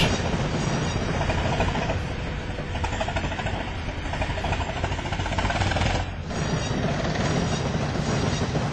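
A train rumbles along the tracks, loud and close, with steady rolling clatter and grinding wheel noise that briefly dips before resuming.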